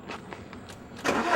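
A car engine cranks and catches, a brief starter whir followed by a louder burst as it fires up, fairly close.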